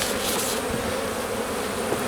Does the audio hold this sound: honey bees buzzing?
yes